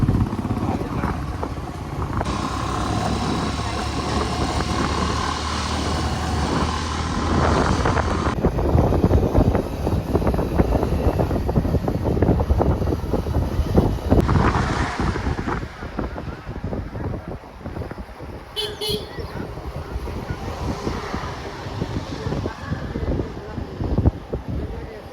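Motorbike carrying three riders on the road, a continuous engine drone buried under heavy buffeting wind noise, loud and close for the whole ride, with shifts in the rushing air.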